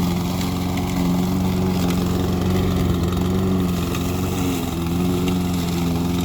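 A Saber Edge lawnmower with a smoke-belching Briggs & Stratton OHV engine runs steadily up close, a loud continuous low engine drone with no talking.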